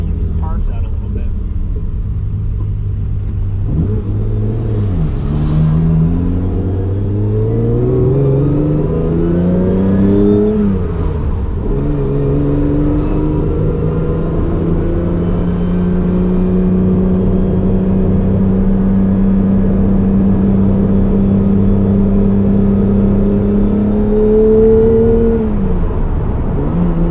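A small engine with carburetors, running after sitting unused, idling and revving unevenly, pitch rising and falling over a steady rumble, close by, with some talking over it.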